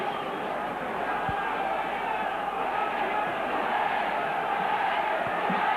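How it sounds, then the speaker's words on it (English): Near-capacity rugby league stadium crowd at the Willows during a Salford versus Wigan cup match, a steady, dense roar of murmuring and calling voices that fills the whole stretch without letting up. "A great atmosphere here at the Willows. Near capacity crowd."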